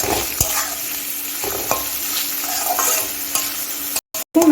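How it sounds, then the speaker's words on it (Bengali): Onion fries in hot oil with already-fried garlic, giving a dense, continuous sizzle with several scraping stirs and a couple of abrupt breaks in the sound near the end. "এখন এর মধ্যে পেঁয়াজটা দিয়ে দিচ্ছি পেঁয়াজটাকেও কিছুক্ষণ ভেজে নিচ্ছি"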